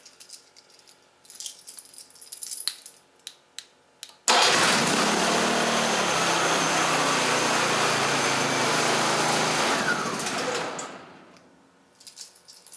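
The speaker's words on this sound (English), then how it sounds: "press and hold this red stop button until the engine stops" A few clicks, then a Hyundai generator engine bursts into loud, steady running for several seconds before winding down and cutting out, followed by more light clicks.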